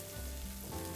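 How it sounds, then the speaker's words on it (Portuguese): Garlic browns in butter in a pan already hot over medium heat, giving a steady, close hiss of frying with no voices over it. "Aí eu vou dar uma douradinha no alho."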